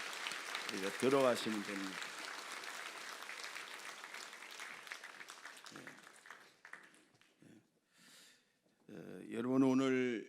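A congregation claps during a Sunday church service, a dense patter filling the first half and fading. Someone talks briefly over the start and again at the close.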